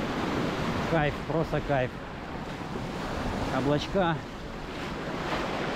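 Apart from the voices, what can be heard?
sea waves at Punta Cana beach, Dominican Republic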